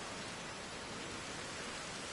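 Steady rain falls in Jurassic World Evolution 2, a constant even hiss with no breaks, heard faintly and alone throughout.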